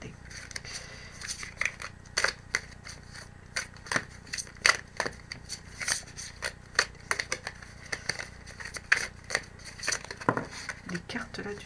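Large, heavy tarot cards being shuffled by hand, giving dense bursts of sharp crisp riffling and slapping card noise in an irregular rhythm, close and fairly clear.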